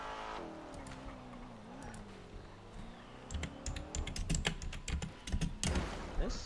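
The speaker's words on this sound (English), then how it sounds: "This shit sound like my car." A car engine in a college campus roleplay video game hums and shifts in pitch, joined midway by bursts of rapid computer keyboard typing and clicks that grow louder and busier toward the end.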